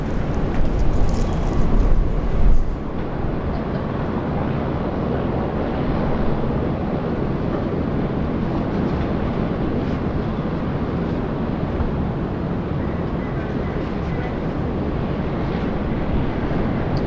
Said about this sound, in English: Arrived from Newcastle, flight 480. That's A320.